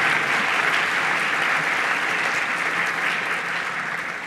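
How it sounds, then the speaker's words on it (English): An audience at a law school awards event applauds, with continuous dense clapping that starts full and slowly eases toward the end. "That deserves applause."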